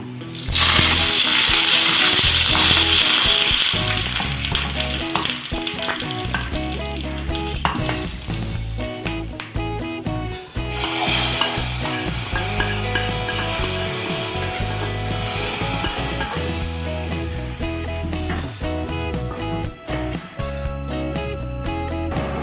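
Fenugreek seeds, dried red chillies and curry leaves hit hot oil with popped mustard seeds, giving a loud, dense crackling sizzle with rapid spitting pops that runs throughout while tempering for a ripe banana pulissery.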